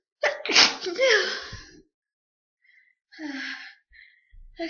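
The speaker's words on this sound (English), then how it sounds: "I gotta sneeze." A person's loud, close sneeze bursts out after a sharp inhale, followed by a pause and then breathy gasps and sighs.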